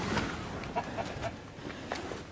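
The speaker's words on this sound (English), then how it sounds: "they all flock around, and that is how we feed the chickens" Chickens cluck softly around a feeding trough, with scattered short calls rising over a steady wash of farmyard background noise, moderately close.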